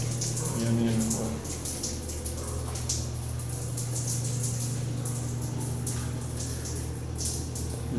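Tap water runs steadily in an apartment, a constant rushing flow with a low humming tone beneath, while a person talks intermittently over it.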